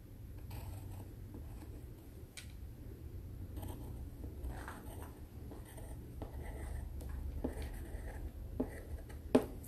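Pencil scratching on paper as a name is written during a preschool writing lesson, soft intermittent strokes and taps close by, quiet over a low background hum, with no talk.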